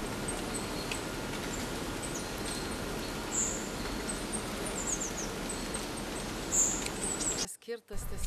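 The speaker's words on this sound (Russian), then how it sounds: "можно услышать усиленные конусом звуки леса, пение птиц, шум листьев" Forest ambience amplified through a wooden listening cone: a steady airy hush of rustling leaves with scattered high bird chirps and tweets throughout, ending in a brief close handling thump.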